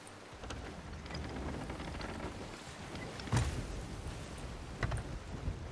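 Storm at sea in Sea of Thieves, with steady rain and rushing water around a sailing ship, a few sharp thunder cracks breaking through the constant wash.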